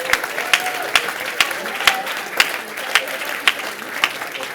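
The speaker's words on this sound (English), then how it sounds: "big applause for 3+1." Audience applause at a closing ceremony of the SwissHacks 2025 hackathon, a steady wash of many hands clapping with sharper individual claps standing out, fairly close and continuous for a few seconds.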